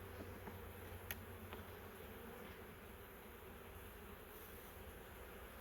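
Honey bees hum faintly around a hive on a cool day, a soft continuous drone with a couple of small clicks and no talk.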